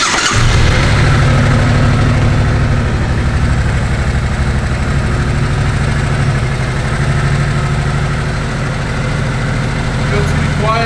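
A Suzuki Boulevard C90T motorcycle engine, held in neutral with the clutch in, fires up and then settles into a steady, loud, close idle that rumbles evenly throughout.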